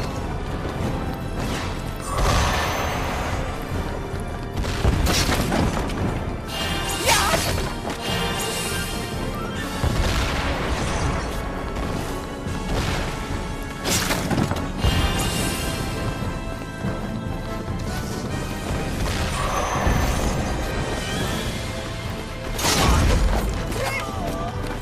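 A cannon fires repeatedly in Drakengard 3, heavy crashing blasts landing every few seconds over a continuous backdrop of clanking mechanisms and sound.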